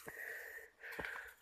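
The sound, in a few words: heavy panting breath while hiking uphill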